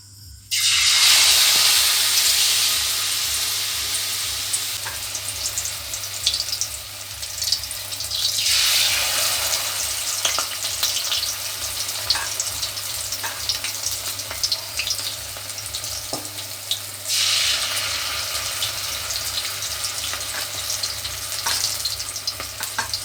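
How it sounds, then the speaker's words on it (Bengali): Pui (Malabar spinach) leaf bara fritters with filling frying in hot oil, a loud steady sizzle that swells twice as fresh fritters go in, with a low hum underneath and no speech. "আমার বড়াগুলো ভাজা হয়ে গেছে, নামিয়ে নিচ্ছি আমি"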